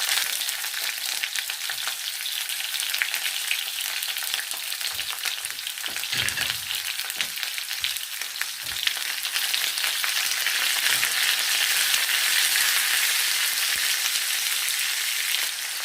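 Onions go into a pan of browned potatoes, giving a loud, continuous hissing sizzle with a few scraping stirs partway through.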